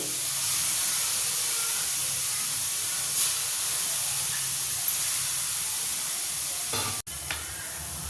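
Washed ridge gourd frying over high heat in an iron pan, a steady close hiss and sizzle holding throughout with a few faint stirring scrapes near the end.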